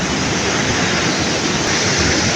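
Waterfall about ten metres high in a virgin mountain forest, a steady, loud, broadband rushing roar of falling water with no pauses, heard alone and close by.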